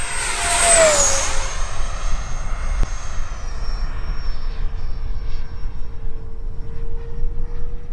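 A Freewing F-4 RC jet on an 8s setup makes a full-speed pass, its loud whine sweeping past with a falling pitch early on, then fading into a distant steady hum over continuous rushing noise.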